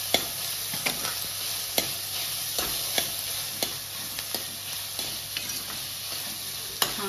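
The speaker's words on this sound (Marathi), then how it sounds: "छानपैकी अशी आपण शिमला मिरची आता परतवून घेणार आहे" Capsicum sautés in hot oil for pav bhaji, giving a continuous bright sizzle punctuated by sharp ladle taps and stirring scrapes against the pan at irregular intervals, with no talking.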